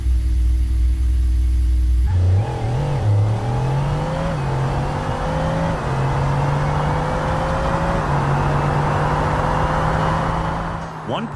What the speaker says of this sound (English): The Bugatti Chiron is next.